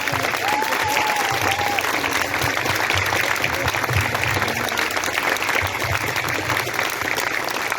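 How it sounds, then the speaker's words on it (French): Parents and staff applauding at a school year-end celebration in Comines, sustained even clapping from a crowd for the full length, with a voice briefly audible over it. "je pense qu'on peut l'applaudir"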